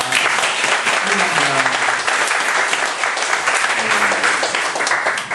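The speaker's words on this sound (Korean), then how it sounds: "그래서 박수 주시다 감사합니다." Steady, dense applause from a large crowd, clapping continuously at an even level throughout with no pauses.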